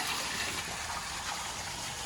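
Water poured into a large biryani pot holding about 1.5 kg of soaking rice for a mutton biryani, a steady close gushing splash that runs without pause for the full two seconds.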